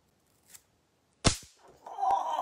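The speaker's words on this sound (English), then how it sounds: "This is my first cracker of the year." A Christmas cracker is pulled and snaps with one sharp, loud bang, followed by a brief rustle and crinkling of paper as it tears apart.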